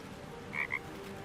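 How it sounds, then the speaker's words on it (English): A frog croaks in Baldur's Gate 3, two short soft croaks in quick succession over a quiet ambient game backdrop. "It's a fucking frog."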